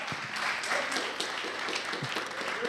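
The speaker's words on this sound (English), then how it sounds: "we can do better with the applause for the regional minister" Faint, steady applause from an audience for a regional minister, a continuous wash of many hands clapping at a distance with no speech over it.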